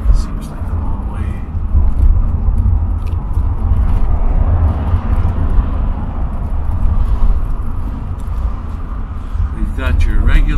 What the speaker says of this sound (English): We've got your regular road noise